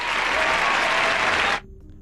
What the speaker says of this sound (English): this is gonna be the hand clap